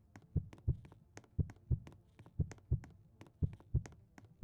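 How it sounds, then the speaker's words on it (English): A video game heartbeat thumps in steady double beats, lub-dub pairs repeating about every second, close and fairly quiet against near silence with no talk. "Why do I hear heartbeats?"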